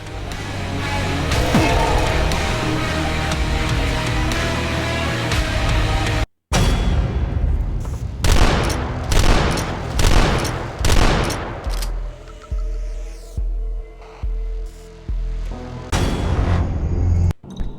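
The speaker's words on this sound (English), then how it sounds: "Those are homing shots." Enemy homing shots fire in the retro shooter DUSK: a long dense barrage of loud gunfire, then a rapid run of sharp, separate blasts and booms with brief gaps, all close and without talk.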